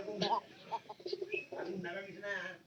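Pigeons near a straw nest give low cooing calls close by, partly overlapped by a person talking nearby.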